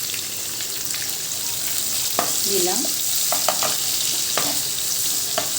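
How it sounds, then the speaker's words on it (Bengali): Chopped onions fry in oil in a pan with a loud, continuous sizzle, broken by scraping stirs and clinks from a spatula; a voice speaks briefly near the end. "পেঁয়াজটা একটু ভাজা ভাজা হতেই"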